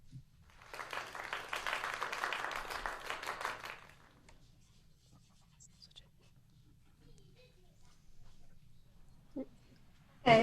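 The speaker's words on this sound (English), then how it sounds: "I'll give you a round of applause, you reset, and we'll start this thing over." A round of applause from an online improv class, a burst of scattered clapping for about three seconds that then drops away to near quiet, with a few faint knocks near the end.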